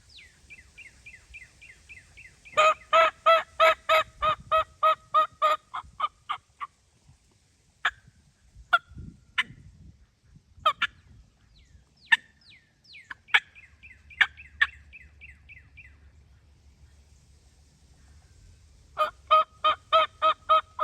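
A turkey mouth call and a wild turkey trade calls: series of clear, evenly spaced yelps repeat in bursts, with scattered single notes and quiet gaps between them, out in open woods.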